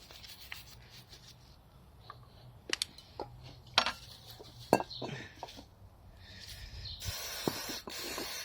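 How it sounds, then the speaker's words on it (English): Brake cleaner sprayed onto a Honda VFR 800 motorcycle front brake caliper during a brake service, steady hissing rising toward the end, mixed with scattered clinks and rubbing taps from tools and parts close by. "you'll see it just needs a brake cleaner, it's like a rinse off."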